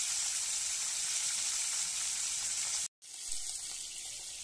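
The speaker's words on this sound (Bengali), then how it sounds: "মাছগুলো ভাজা হচ্ছে।" Magur catfish frying in hot oil in a wok, a steady, close sizzling hiss that runs without a break, cuts out briefly, then carries on with the same sound.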